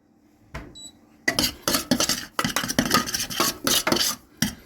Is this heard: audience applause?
no